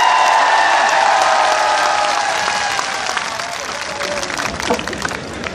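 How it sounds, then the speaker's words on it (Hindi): A crowd applauds and cheers at a political speech by Bhagwant Mann, loud dense clapping that gradually thins and fades toward the end. "सही है तालियां मार के दस्सो सच्ची"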